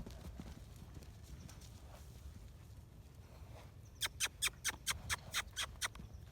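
A gaited horse's hooves pound the grass in a quick run of about nine close, evenly spaced beats near the end, after a stretch of low, steady outdoor background noise.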